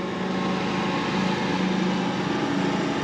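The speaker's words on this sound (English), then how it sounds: "I do apologize about the lawnmower." A lawn mower engine drones steadily in the background outdoors, a constant buzzing hum with no breaks, moderately loud and unchanging throughout.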